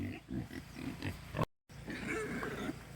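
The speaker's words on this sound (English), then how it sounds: "Pigs are trying to reach through a fence to get some grass." Pigs grunt and snuffle close by while reaching through a fence for grass, with short rhythmic grunts, a brief gap, then continued rooting and rustling.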